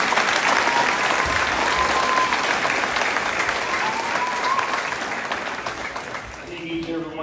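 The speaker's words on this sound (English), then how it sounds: "we ought to give another round of applause for the excellent team." Audience at a high school Veterans Day ceremony applauding a student team, a loud, sustained round of clapping that gradually thins toward the end, with a few voices and cheers underneath.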